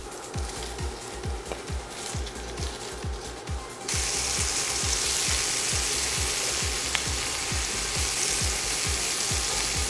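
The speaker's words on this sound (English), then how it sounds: "once it's nice and hot, we're gonna add in our sausage and get it browned on all sides" Sausage sizzles in hot avocado oil in a skillet, a loud, steady frying hiss with a regular ticking rhythm underneath, growing fuller and louder partway through.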